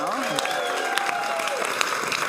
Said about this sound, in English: Keep that round of applause going for all of our players coming to the stage now